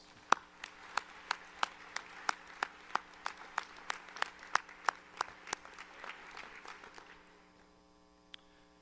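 A commencement audience gives the seated faculty a round of applause, heard as distinct, fairly sparse claps in a steady rhythm that thin out and fade to near silence by the end.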